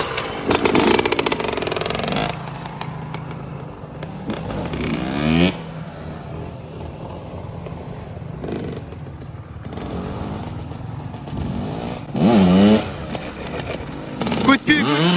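Motorcycle engine revving in short bursts with clutch blips during wheelie practice, rising and falling several times, with a coach's voice talking over it.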